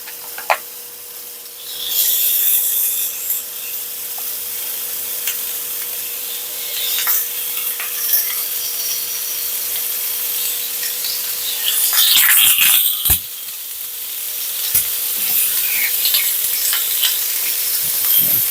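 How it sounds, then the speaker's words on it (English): Lamb chops sizzle loudly in a hot grill pan with a spray of olive oil, a steady close frying hiss with occasional scraping and rustling bursts, no talking. "Nice hot pan, nice grill sound."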